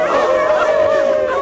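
People in a crowd on a salt march leaving the Château d'Arques imitate dogs with their voices, giving a loud, close, sustained howling and yelping chorus that runs the whole time.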